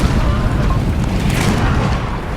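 Cannon fire in an American Civil War video game battle, a continuous dense rumble of booming artillery blasts layered over each other, loud and sustained throughout.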